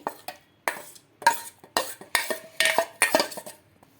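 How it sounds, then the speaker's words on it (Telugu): Dry semolina pours with a granular rattle into a hard mixer jar in several short bursts, with clinks between pours. "రవ్వ మొత్తం వేసేసుకోవాలి"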